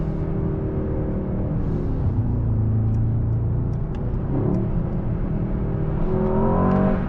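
A 2024 Mercedes-AMG S63 sedan with a V8 engine drones loudly and steadily from inside the cabin, its pitch rising and falling gently with the revs and no talking over it.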